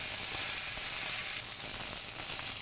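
Ginger-garlic paste fries in a pan, giving a dense, steady hiss and sizzle with faint crackles throughout and no voices.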